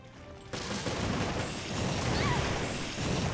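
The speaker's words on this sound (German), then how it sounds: "Kettenexplosion, spart Muni." In Resident Evil Revelations, a chain explosion erupts abruptly after a quiet moment, then a dense, sustained roar of blasts and crackling debris continues loudly to the end.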